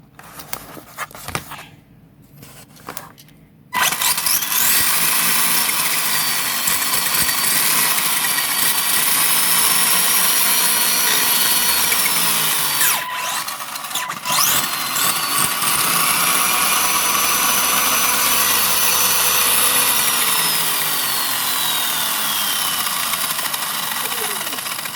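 Brushed ECX Torment 1:10 RC car running on a 3S battery, a loud continuous high-pitched motor whine with shifting pitch as it speeds up and slows, steady throughout after a brief quieter start.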